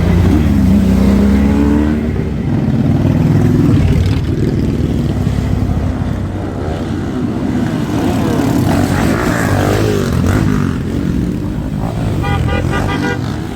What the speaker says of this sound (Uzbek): bu yerda mana mototsiklda kelyapti